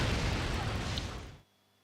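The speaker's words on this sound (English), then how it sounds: "There was an explosion, the door won't move" A loud, dense explosion blast in Resident Evil 3: Nemesis on PS1 holds a broad roar for over a second, then cuts off into near silence.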